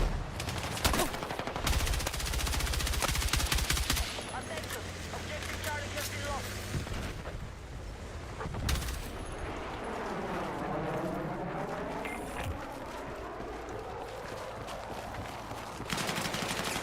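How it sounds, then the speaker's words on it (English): Gunfire in the military shooter Battlefield 6, with bursts of shots and rattling fire over a loud battlefield din, a voice talking over it at moments. "Who was shooting at me then?"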